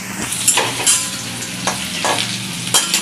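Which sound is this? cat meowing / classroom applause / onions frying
onions frying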